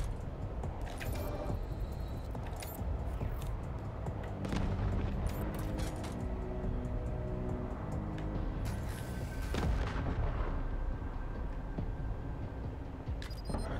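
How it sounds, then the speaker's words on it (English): Turret fire from a vehicle in the video game Wasteland 3 strikes a warbot. Dense, continuous bursts of shots and impacts ring out with bangs and clatter, fairly loud and steady over roughly fourteen seconds. "Vehicle turret online. It's time to even the odds."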